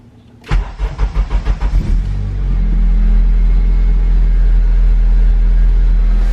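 A K20-swapped Honda Civic EK sedan engine cranks with a rapid series of starter pulses, then catches and settles into a steady, loud idle rumble.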